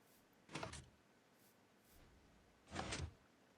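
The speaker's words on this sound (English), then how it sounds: "You broke the door." Two separate muffled thuds and crunches of a door breaking in the Minecraft video game, each a short burst about two seconds apart over quiet background.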